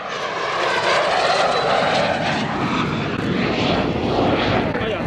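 A Mikoyan-Gurevich MiG-15UTI jet roars past at an air display at Yeovilton Air Day, a loud, broad, continuous engine rush filling the air with shifting tone as it flies by.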